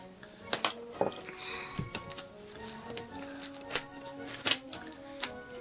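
Sharp clicking scissor snips and crinkly duct tape sounds come in irregular bursts while making a wallet, close by, with faint background noise between cuts.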